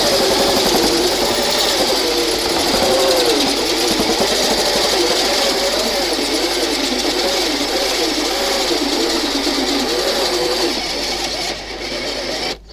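A cordless drill's steady whining motor drones continuously at close range for about eleven seconds while drilling a hole in a koi pond filter, wavering slightly in pitch, then cuts off abruptly.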